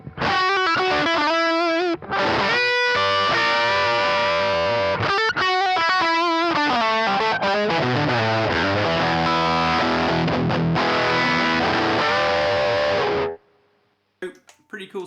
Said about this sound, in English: And then I can boost this with a Wampler Tumnus